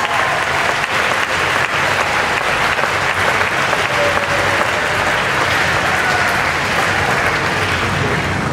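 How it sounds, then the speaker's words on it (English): A graduation audience at the Space and Rocket Center applauds loudly and continuously, thick even clapping that fills the whole stretch without letup, with faint voices underneath. "How about another round of applause for how amazing this team is."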